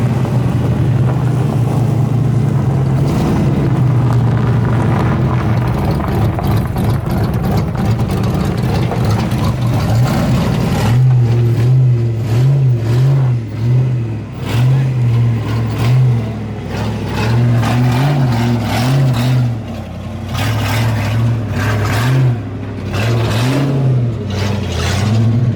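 A drift car fitted with an angle kit revs its engine as it is driven up onto a trailer, loud and close, with a throbbing, pulsing idle broken by repeated throttle blips and sustained revving throughout.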